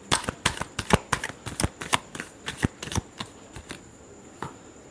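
Tarot cards being shuffled by hand, a rapid series of crisp riffling slaps in an irregular rhythm, close and alone, tapering off near the end.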